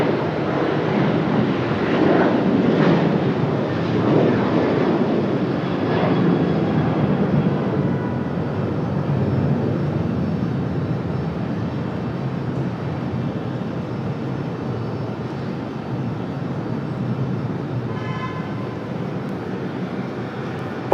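A Copa Airlines jet departs Raleigh-Durham International, its engine roar steady and loud at first, then easing gradually as it pulls away over about twenty seconds, with no talk over it.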